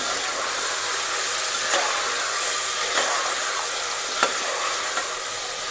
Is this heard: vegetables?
yes